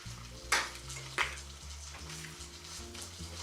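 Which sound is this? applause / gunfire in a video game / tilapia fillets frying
tilapia fillets frying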